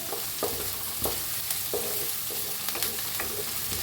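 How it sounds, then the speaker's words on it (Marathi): Curry leaves and onion frying in a pan, a continuous sizzle broken by repeated scraping strokes of a spoon stirring at an irregular rhythm, close and fairly loud, no talking. "कढीपत्ता कांदा छान असा भाजायचा लालसर कलर"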